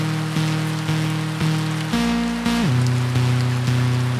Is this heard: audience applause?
no